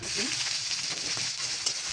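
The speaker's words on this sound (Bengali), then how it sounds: "হালকা লাল করে ভেজে নেব" Onions fry in hot oil with bay leaf, cumin and garam masala in a home kitchen, giving a soft, continuous sizzle with light stirring scrapes, fairly quiet and close.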